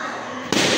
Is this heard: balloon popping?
yes